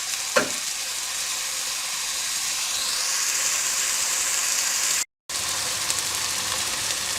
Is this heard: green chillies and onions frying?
yes